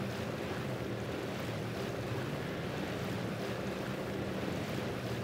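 Steady rushing water and wind wash over a river crossing in the SnowRunner off-road truck game, where a Hummer H2 scout has lost traction and drifts off with the current; continuous broadband noise, no voices.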